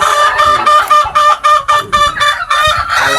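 Chickens cluck and call almost nonstop while pecking at feed, with loud, close, repeated bursts of clucking and an uneven rhythm.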